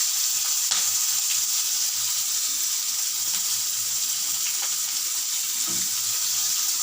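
Chili and chopped tomato hitting hot spiced oil, a steady bright sizzle with a few sharper spatters and stirring clinks, close and even throughout with no talking.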